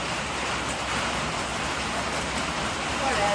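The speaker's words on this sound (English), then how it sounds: "It's rain hitting the metal barn." Rain drums on a metal barn roof in a steady, even hiss of close, dense patter, with a brief spoken word over it.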